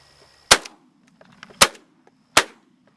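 Three sharp, loud shotgun blasts ring out at uneven intervals during a pigeon hunt outdoors, each followed by a brief echo, with quiet gaps and faint rustling between them.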